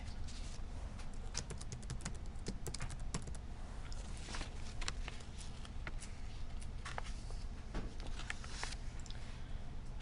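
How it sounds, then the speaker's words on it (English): Rapid, steady typing on a computer keyboard, with crisp close-up key clicks pattering continuously over a faint room hum. "we're going to type in file class"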